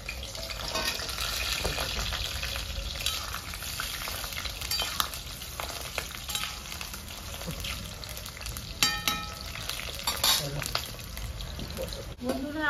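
Washed potatoes sizzle and crackle in hot white cooking oil in a pan, a steady close frying hiss with occasional stirring clatter.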